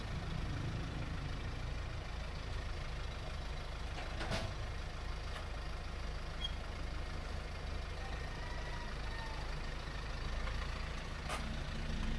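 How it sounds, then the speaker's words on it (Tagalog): A motor engine idles nearby with a continuous low rumble and a steady, even drone, broken only by a couple of brief sharp clicks, with no voices. "Motor."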